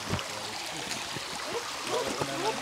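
A rocky mountain river flowing, a steady rush of water with trickling and gurgling detail, heard close under faint voices and footsteps.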